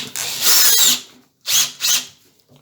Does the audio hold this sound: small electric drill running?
yes